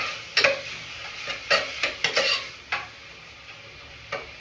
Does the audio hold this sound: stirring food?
yes